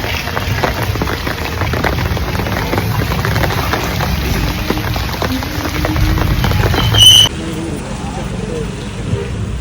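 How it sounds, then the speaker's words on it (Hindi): Rain falls steadily outdoors during a heavy downpour while someone waits outside a house, a broad continuous hiss with passing traffic and scattered voices mixed in. "बारिश हो रही है"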